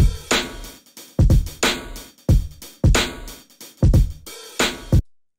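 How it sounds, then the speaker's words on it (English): An unfiltered drum loop, with punchy kicks, snares and bright hats in a steady groove, plays for several bars before stopping into silence. "The drum bus without filtering sounds like this."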